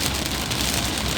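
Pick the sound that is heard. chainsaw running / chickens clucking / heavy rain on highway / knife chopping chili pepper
heavy rain on highway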